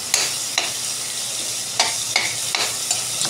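Tomatoes sizzle steadily in a hot pan while a utensil scrapes and stirs in sharp, irregular strokes, close and fairly loud, with no talking.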